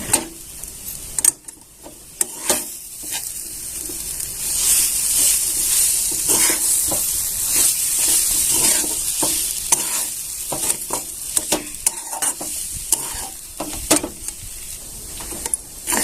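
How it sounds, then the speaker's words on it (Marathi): A spatula scrapes and clatters against a pan as paneer is sautéed with roasted coconut and flour for modak filling. Irregular knocks and scrapes repeat over a soft, continuous sizzle, loud and close, with no talking. "आता पनीर घालून घेऊया इथे एक वाटी पनीर घेतलेलं आहे ते घालून घेऊया छान असं ते पण परतून घ्यायचं आपल्याला पनीर"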